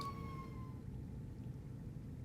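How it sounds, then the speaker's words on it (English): An emergency siren wails briefly and descends, fading out within the first second and leaving only a low, steady rumble. "There's a lot of sirens today."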